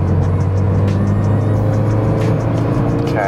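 A Mazda Mark III car engine drones steadily from inside the cabin as the car accelerates up to 60, with a constant road and engine roar and no talk.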